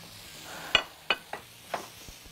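Chicken pieces frying in hot oil for chicken piccata with mushrooms, a few sharp sizzling bursts and crackles spaced out over a quiet kitchen background.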